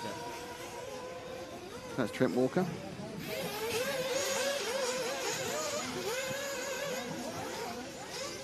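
Radio-controlled race cars whine and buzz around a track during qualifying, a steady layered high-pitched motor drone with a louder pass, under continuous commentator talk.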